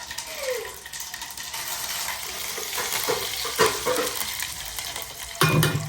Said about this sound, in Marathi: तडका कसं आहे? जिरं टाकत नाही, मी जिरं टाकले